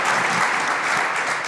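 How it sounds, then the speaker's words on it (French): Dense applause from a conference audience at a couples' conference session, a thick, continuous wash of clapping heard close and alone for a brief moment. "can we give a big round of applause for Christine and Isaac, the translators?"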